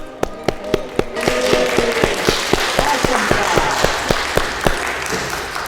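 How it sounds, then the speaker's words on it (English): Applause for the women after a boxing workshop session: steady rhythmic clapping, loud and close, with sharp regular claps cutting through a wash of clapping and cheering from a small group. "Let's give a round of applause to the ladies."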